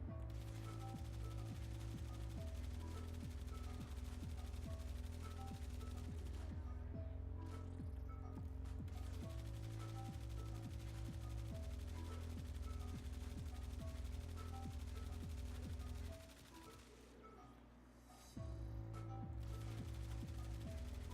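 Rapid, continuous automatic fire from a flux rifle in a video game, loud and dense with a steady rhythm, briefly pausing near the end before resuming.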